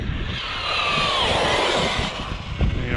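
A Losi Super Baja Rey 2.0 RC truck running two 3S batteries screams along at full throttle, a loud, steady high-pitched motor whine that rises in pitch and then eases off, with rough rumble and crunching underneath.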